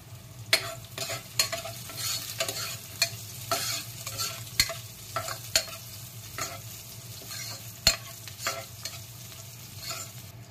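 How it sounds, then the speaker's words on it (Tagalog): Garlic sautéed and stirred in a hot pan for a sardine breakfast dish, a steady soft sizzle broken by frequent scraping utensil strokes at an irregular rhythm, heard close with no talk. "Sunod, igisa natin ng bawang."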